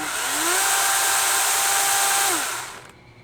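A DeWalt 20V Max XR cordless chainsaw runs at one fixed speed, a close, loud and steady electric whine with a rising spin-up. It winds down sharply near the end as the brake stops the chain.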